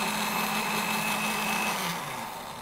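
Close, continuous motor whir of a kitchen blender grinding bread with milk into a smooth pudding base, holding steady before easing off slightly toward the end.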